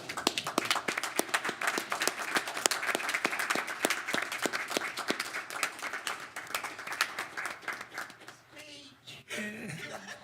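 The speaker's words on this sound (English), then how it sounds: "would everybody please stand up and give her a big round of applause?" A council meeting audience claps together in a dense, sustained burst of applause that fades near the end, with some laughter and voices in the background.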